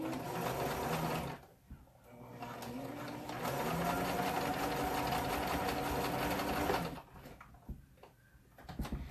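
A sewing machine zigzag stitches over overlapped elastic ends, a loud close mechanical whirr in two bursts separated by brief pauses.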